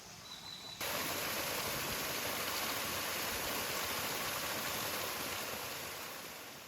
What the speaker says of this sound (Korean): 절구폭포는 음해암의 세로 방향의 틈에서 생긴 2단 폭포로 이루어져 있습니다